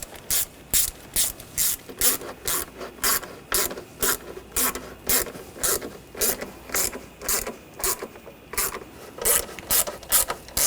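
A hand ratchet tightens the valve cover bolts on a 2014-2020 Nissan Rogue 2.5L. It gives a close, loud, steady run of rapid clicking strokes, about two per second, with no talking.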